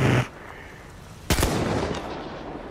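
Gunfire in the video game Battlefield 1: one sharp loud shot with a short rumbling tail, preceded by a brief burst of noise, heard alone without talk.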